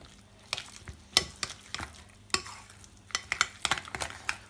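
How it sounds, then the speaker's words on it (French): Ricotta and green vegetable filling stirred in a bowl, heard as irregular close scraping and tapping strokes of a utensil, with quiet gaps between them and no voices. "On mélange bien."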